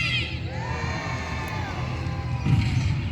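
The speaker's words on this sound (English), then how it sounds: "On the count of 3, I want to hear you all cheer!" Crowd of spectators, many of them children, cheering and shouting at a trebuchet show at Warwick Castle, a sustained loud chorus of high voices and whoops with a fresh swell near the end.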